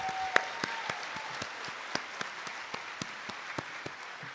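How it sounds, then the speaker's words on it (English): Audience at a college honor society induction ceremony breaks into applause, a steady wash of clapping with sharp individual claps standing out, moderately loud and continuous throughout. "Let us get a big round of applause for that."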